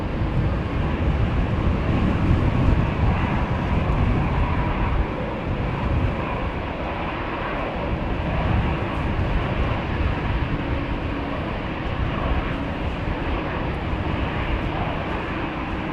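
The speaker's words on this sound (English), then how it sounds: "I think we have the first airplane 218 left coming this way" A fixed-wing airliner heads in toward runway 18R at Amsterdam Schiphol during Storm Lilian, its loud, sustained engine roar blending with blustery storm wind throughout.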